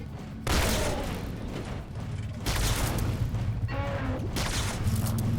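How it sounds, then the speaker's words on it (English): Chain reaction explosions in a video game: three loud, heavy booming blasts roll out at intervals, each followed by a crackling, rumbling tail. "You had several chain reaction explosions near you"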